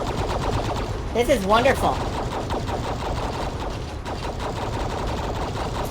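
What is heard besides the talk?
gunfire from a four-armed enemy in a video game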